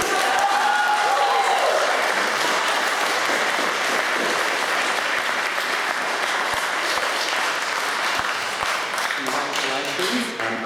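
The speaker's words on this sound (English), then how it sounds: "clapping is apparently unparliamentary" A school debate audience applauds the announced grand final winners, sustained crowd clapping that stays full and even for the whole stretch, with a voice starting to speak near the end.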